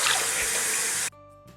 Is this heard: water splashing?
yes